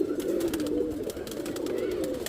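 Pigeons coo close by in a loft in Mirpur, a continuous low throaty warble of several birds overlapping in a soft pulsing rhythm, without talk.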